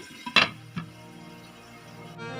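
A lid is set onto a pan of hot garlic pepper chicken with added water: one bright, close metallic clank, then a softer knock, followed by a low steady simmer.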